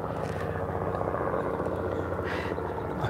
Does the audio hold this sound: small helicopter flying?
yes